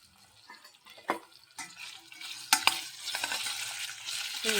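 Potato and okra frying in a pan, with intermittent stirring scrapes and clatters over a soft, rising sizzle that grows louder and busier toward the end.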